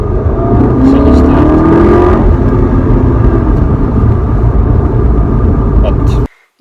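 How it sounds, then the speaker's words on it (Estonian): A car engine revs hard during a test drive, a loud sustained roar with a rising turbo whistle over it, before cutting off abruptly at the end. "saab jälle nautida seda mõnusat mootori häält ja turbovilinat"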